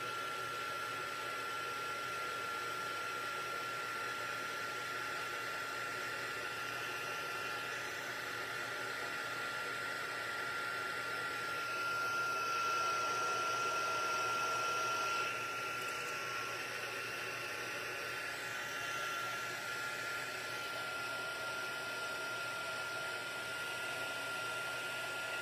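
A crafting heat tool blows hot air steadily for embossing, a constant close whooshing hum lasting the whole stretch with a slight rise partway through.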